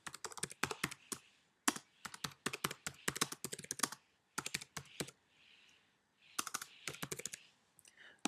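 Fingers type on a computer keyboard in quick bursts of clicking keystrokes with short pauses between, close and clear, as a blog post title is entered.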